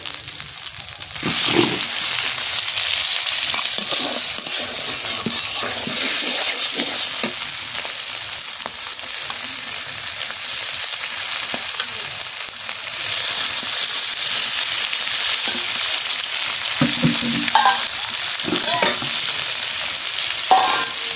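Rohu fish in a spicy masala fries in hot oil, a steady sizzle throughout with intermittent stirring scrapes of a spatula in the pan, no talking.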